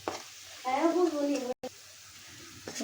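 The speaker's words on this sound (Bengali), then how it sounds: "তেল দিয়ে দিলাম বেশি করে, এখানে আমি বেশি করে পেঁয়াজ রসুন একসাথে দিয়ে দিলাম।" Onion and garlic added together to plenty of hot oil give a soft frying sizzle with some stirring, partly under a voice, with a brief dropout midway.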